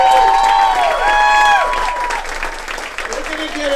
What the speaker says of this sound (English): Can we get a big round of applause for everybody who's seen it?